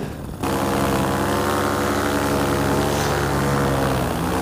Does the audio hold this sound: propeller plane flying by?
yes